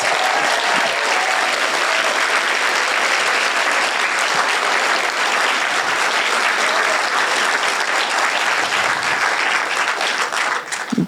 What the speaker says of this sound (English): can we have just a round of applause for all 10 of our presenters?